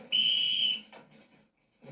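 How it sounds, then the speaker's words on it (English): A single shrill whistle blast, loud and steady for about half a second, then quiet rustling. "Kish pulls off his gas mask and blows a whistle."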